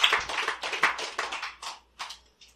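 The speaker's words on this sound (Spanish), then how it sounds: "Denle un fuerte aplauso al Señor" Church congregation clapping together in a quick, uneven patter that thins out into a few scattered last claps, fairly quiet and without talk.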